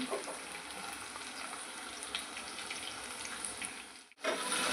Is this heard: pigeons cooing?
no